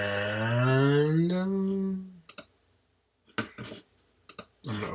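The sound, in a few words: computer mouse clicking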